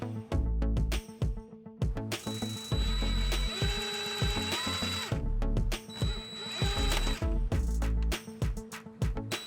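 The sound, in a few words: power tool cutting aluminum bracket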